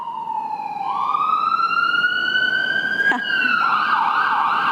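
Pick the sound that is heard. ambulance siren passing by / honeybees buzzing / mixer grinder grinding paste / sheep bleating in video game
ambulance siren passing by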